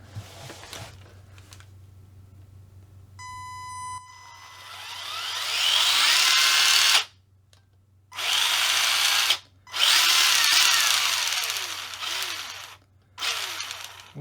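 Electric motor of a Tamiya MF-01X RC car chassis built as an Escort Mk II rally car, whining loudly in repeated throttle bursts with brief silent gaps, the pitch rising and falling after a short steady tone.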